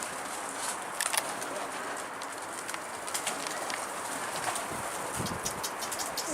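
Pigeons coo softly by their coop outdoors, low repeated calls under a steady hiss of ambient noise, with faint voices nearby.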